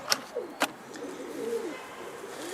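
Pigeons coo softly in low, rolling phrases at moderate distance, with a couple of sharp clicks or claps in between and no talking.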